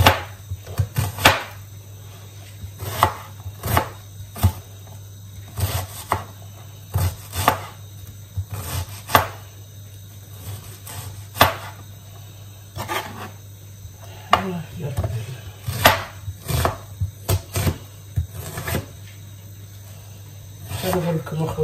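An onion is chopped on a board for a quince tajine, each knife stroke landing as a crisp, close tap in irregular bursts of quick strokes with short pauses, over a steady low hum.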